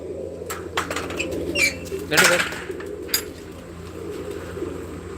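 Pigeons inside a partitioned coop give a few brief bursts of wing flapping with soft cooing, fairly close, among low background noise and occasional talk.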